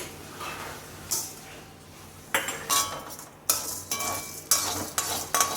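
Lentils fry in a pan while a utensil stirs and scrapes them, with repeated sharp sizzling scrapes at an uneven rhythm.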